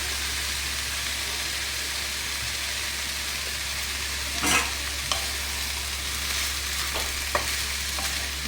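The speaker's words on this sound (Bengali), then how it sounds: "ভালো করে মশলাটার সাথে মিশিয়ে নেব" Banana flower curry being stirred with spices in a pan, a steady close sizzle of frying with a few soft scrapes of the spoon, continuous and even, with no talking.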